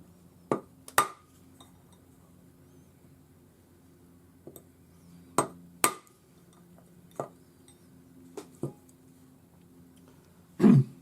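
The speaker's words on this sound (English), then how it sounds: "rawhide hammer, and we just hammer it in this way" Sharp metallic taps of a rawhide hammer shaping a ring on a ring mandrel ring out one at a time at uneven intervals, about nine strikes in a quiet room, with a louder knock at the end.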